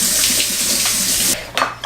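A cucumber is rinsed under a running kitchen tap as a steady hiss of flowing water that cuts off near the end, followed by a couple of brief splashy handling sounds close by.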